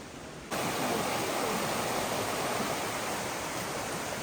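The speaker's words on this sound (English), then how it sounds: "It's a waterfall." Waterfall at Ingleton Waterfalls, a loud, steady rushing roar of falling water that starts abruptly after a short quieter moment and continues unbroken, with no voices.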